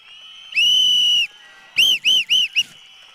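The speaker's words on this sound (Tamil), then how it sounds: "எங்களின் விசில் சத்தம் விண்ணை பிளக்கின்ற வகையில் இதோ நாங்கள் ஊதுகிறோம்" Whistles blown from a political rally stage, loud and close: one long, shrill blast, a short pause, then four quick sharp toots in a row.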